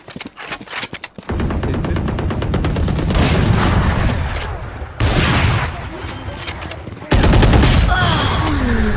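Gunfire from the video game Valorant: loud, dense rapid-fire bursts crackle almost continuously, with brief pauses between volleys and heavier booming shots near the end.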